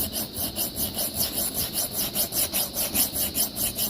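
A metal file scrapes rhythmically along the bevel of an axe head, with steady back-and-forth strokes at roughly four per second, close and fairly loud, and no other sounds.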